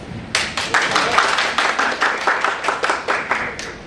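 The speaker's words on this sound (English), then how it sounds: "Let's welcome our presenter, Professor Antony, with big applause." Workshop audience at a music education conference claps to welcome a presenter; a modest group of close, distinct hand claps with a slightly uneven rhythm, fairly loud and continuous.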